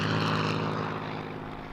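A North American P-51 Mustang's propeller and aircraft engine drone loud and steady close by, holding a strong even roar throughout with no voices.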